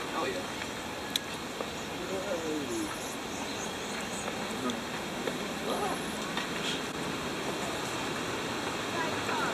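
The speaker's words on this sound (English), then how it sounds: "this was the waterfall" A constant broadband roar of a waterfall in Baños, Ecuador fills the scene, with a few faint bird calls drifting over it.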